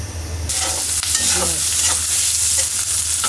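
Beef frying with spices in a heavy, medium-sized kadai, a loud continuous sizzle with bursts of stirring and scraping throughout, no talking.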